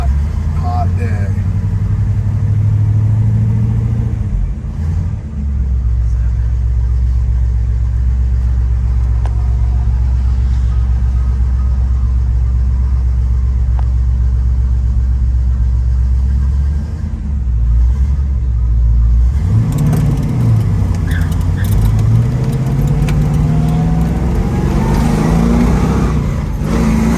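Four-speed 1970 Pontiac Firebird Formula 400 V8 rumbles loudly while driving on a hot day, engine note steady with a couple of rising revs, the last near the end; a person speaks over the engine.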